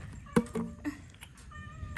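A cat meows a few times close by in an abandoned house, short plaintive calls with a sharper first cry, over a quiet background.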